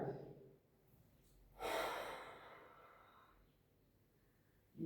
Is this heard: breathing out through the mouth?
yes